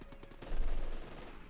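Burst of grenadier rifle and machine-gun fire in Company of Heroes 2, a World War II strategy game, a dense rattling volley swelling at mid-distance and then fading into a low rumble.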